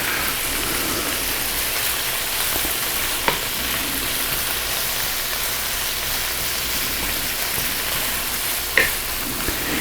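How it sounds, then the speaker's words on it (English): Bacon and a large chopped onion fry steadily in a pan, a dense, even sizzle running the whole time with a couple of sharp clicks or scrapes standing out, no voices. "brown the bacon so we can get that lovely, lovely bacon grease off of it"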